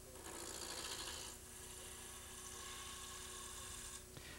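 A roughing gouge cuts a spinning, still out-of-round wood blank on a lathe, giving a steady, loud, rough scraping whir with a brief easing partway through before it continues to the end.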